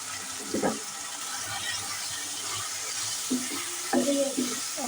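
A spatula stirs spice paste of turmeric, chili powder, coriander powder and salt frying in oil for desi chicken, soft steady sizzling broken by a few sharp scrapes and clinks against the pan, close by with no speech.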